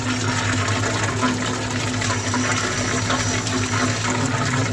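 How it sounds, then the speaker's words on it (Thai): An AC-powered diaphragm water pump runs for a bathroom in a mobile camping vehicle, making a steady gushing, churning drone with a low electric hum, close and continuous throughout, with no speech. "อันนี้เป็นปั๊มน้ำนะครับ"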